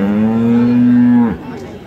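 A cow or calf at a rural cattle market lets out a single close, loud, drawn-out moo lasting over a second, then the call drops away into quiet background.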